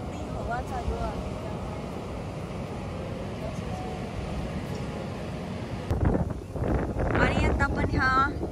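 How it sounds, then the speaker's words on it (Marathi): Strong wind blowing at Spanish Bay beach in California, a constant heavy rumble of gusts buffeting the microphone, with someone talking over it and a shift in the wind noise near the end. "इथे ड्रोन आता उडू शकत नाही, एवढी हवा चालू आहे."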